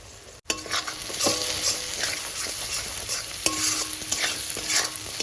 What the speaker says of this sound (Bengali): লঙ্কার গুঁড়োটা খুব ভালো করে মিশিয়ে নেবো